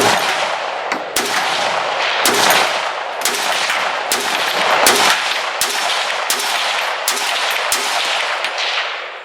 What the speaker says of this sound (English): M91, first shots.